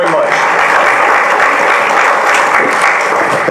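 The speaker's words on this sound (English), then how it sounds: "please stand up and get a round of applause for all your support and help over the years" Steady, dense applause for a board of advisors and executive board at an address by Judge Haddad, filling the room evenly and loudly without a break, with no speech over it.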